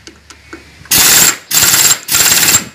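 Pneumatic impact wrench tightening the CVT cover bolts on a Honda Beat scooter, three loud close rattling bursts in quick succession after a quiet start.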